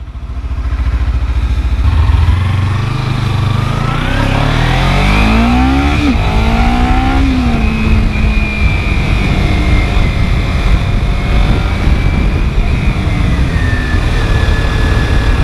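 A Kawasaki Ninja 300 motorcycle accelerating, its engine loud and close and climbing through the gears in rising revs, with steady wind and road noise throughout.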